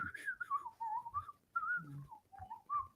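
A person whistles a short, wavering melody of several sliding notes, close and fairly faint, with brief pauses between phrases.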